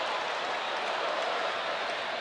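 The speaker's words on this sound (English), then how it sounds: "This crowd getting into it now." A ballpark crowd at a Seattle versus Texas baseball game cheers steadily, a broad, even wash of applause and voices with no break or swell.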